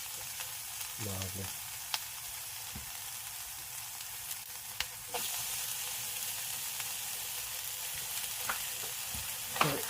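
Bacon sizzles steadily in a pan while roast potatoes, sausages and white pudding cook, a continuous frying hiss with a few soft clinks and a brief word spoken over it.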